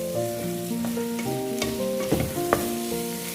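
Boneless chicken and onion are stir-fried in a pan, giving a continuous close sizzle broken by scraping stirs and a few sharp spatula clinks.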